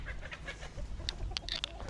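Chickens cluck and murmur nearby in a coop in short, scattered calls, with a few sharper squawks.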